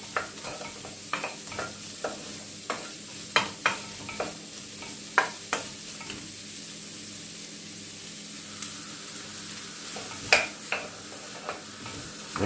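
Onions and celery fry in a pan with a steady soft sizzle, broken by repeated scraping knocks of a spoon stirring them, close and fairly quiet with no talk.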